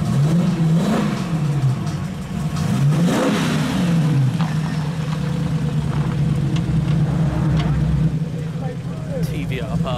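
Blue Nissan Skyline R34 at a car-spotting meet, its engine revving up and dropping back twice in quick succession before settling into a steady idle, close by, with people talking nearby.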